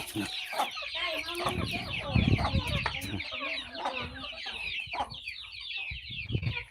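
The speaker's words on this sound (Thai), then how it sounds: "แต่ว่าเพิ่นเลี้ยงไก่ตีไว้" Fighting cocks kept at a rural Thai-Lao farm cluck and chatter continuously at close range, a busy chorus of hens and roosters with scattered sharper calls and outdoor noise underneath.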